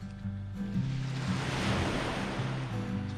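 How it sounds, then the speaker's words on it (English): Sea waves break and wash up onto Bootle Beach in Cumbria as the tide turns, a loud continuous surf roar that swells in the middle, with no talking over it. "Waves are getting bigger."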